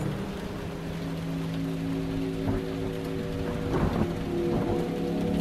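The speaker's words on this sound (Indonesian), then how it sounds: "Kulihat keluar, hujan mulai turun." Steady rain pours down in a dense, even hiss, with low rumbling underneath that swells briefly toward the end.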